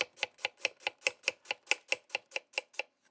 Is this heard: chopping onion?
yes